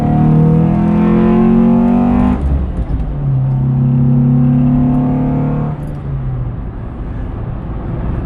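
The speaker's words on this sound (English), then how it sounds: "It's perfect for heel toe downshifting right into this corner." A 1998 Acura Integra RS four-cylinder engine drones steadily, drops sharply as the driver heel-toe downshifts into a corner, holds a lower hum, then dips again near the end, with no talk over it.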